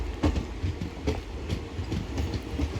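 A train carriage rolls along rails with a steady rumbling clatter and rhythmic wheel clicks recurring about every half second, close and continuous, with no voices.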